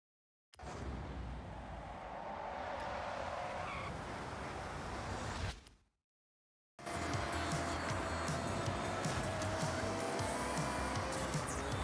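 Tires skid and squeal as a race car spins out in the Forza 6 racing game, a loud sustained screech that stops abruptly, goes silent for a moment, then returns as harsh, dense engine and tire noise.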